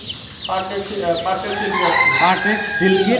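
Chicks of fancy breeds, Silver Crossing and Brahma among them, clucking and chirping on a farm, with a rooster crowing amid dense, overlapping calls at close range.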